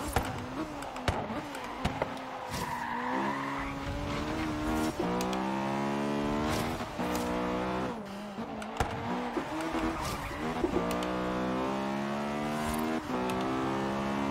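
An Acura Integra Type R engine in Forza Horizon 3, revving high and rising through the gears with repeated pitch sweeps and brief shift dips, with occasional tire squeal, loud and continuous throughout.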